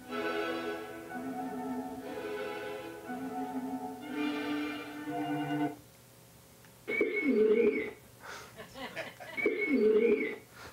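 Orchestral passage from Dvořák depicting cooing pigeons: sustained woodwind-like tones, then two loud, rounded cooing phrases near the end, with no speech over them.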